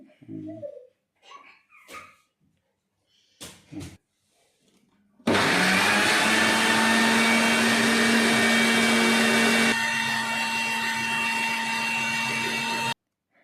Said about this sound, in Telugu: ఇలా ఎగ్ మొత్తం బీట్ చేసేసుకున్న దాన్ని ఒక బౌల్లోకి షిఫ్ట్ చేసేసుకొని